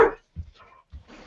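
A few short dog barks and yips from a household's excitable dogs, near and abrupt, separated by brief pauses, with no talking.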